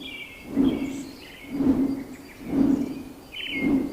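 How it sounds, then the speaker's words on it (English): Rhythmic pulsing calls repeat about once a second in a humid outdoor ambience, with faint higher chirps and whistles scattered above, like a chorus of jungle birds. "Birds. So many. It sounds like music."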